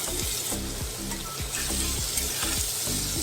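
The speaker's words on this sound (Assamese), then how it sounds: "এনেদৰে অলপ সময় ভাজি লওঁ।" Banana flower frying in a pan, a dense continuous sizzle with regular scraping stirs repeating about every half second, close and alone without talk.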